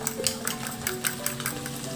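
Beaten egg goes into a pan of chicken liver cooked down with dried fish and liquid seasoning, giving a soft close sizzle with light stirring and utensil scrapes.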